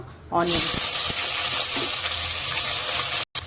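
Biryani spices, fennel, cinnamon, cloves, bay leaf and star anise, sizzle in oil in a pressure cooker as a steady loud hiss that starts suddenly. A voice speaks over it.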